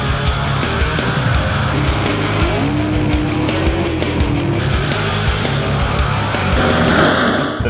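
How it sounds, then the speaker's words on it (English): Stock and super stock NHRA drag racing cars roar loudly and continuously, engine noise steady across the whole stretch with a rising whine in the middle, close and unbroken, with no voices over it. "with the stock and super stock cars, they're the original cars that started NHRA drag racing"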